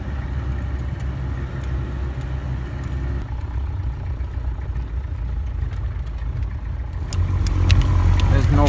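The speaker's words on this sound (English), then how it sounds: "The jeep ride to Saiful Malok." A jeep engine drones loud and steady from inside the vehicle on an unpaved mountain road to Lake Saiful Malok, and the rumble swells near the end as it works harder.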